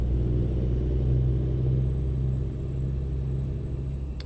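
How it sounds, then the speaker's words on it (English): A video game truck's engine idles with a low, steady rumble and constant drone, moderately loud and without voices. "Sound of this truck sounds like it's a jeepney from the Philippines."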